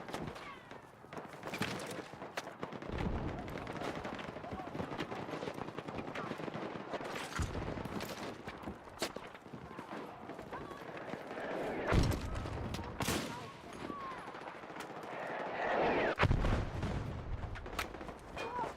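Video game gunfire, sniper-rifle shots aimed at a practice dummy, sounding as sharp repeated cracks and bursts spread irregularly across the stretch, fairly close, with some quiet talk in between.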